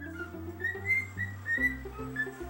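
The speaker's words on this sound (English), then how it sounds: "Why is this bird whistling?" A clear, melodic whistle plays a short tune over a low bass accompaniment, the bright notes rising and falling.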